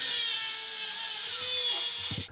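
BMW M3 bumper being cut and trimmed with a power tool, a high-pitched whining grind with shifting tone that runs steadily and ends in a brief low thump.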